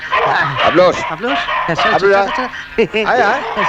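A dog barks in short bursts close by, mixed in with people talking over it during a Bengali drama scene.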